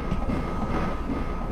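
Train rumble on the Iron Horse stage of the fighting game Vampire Savior, a dense steady rolling drone with a faint tonal hum, continuous and loud.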